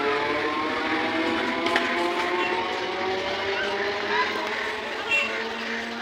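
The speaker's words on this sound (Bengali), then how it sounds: "চলো টাটা, চলে গেল ট্রেন।" A departing down passenger train toward Sealdah via Ranaghat rumbles past with steady, loud mechanical noise and a whistle-like tonal hum, while people talk nearby.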